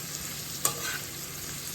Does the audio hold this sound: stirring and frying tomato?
yes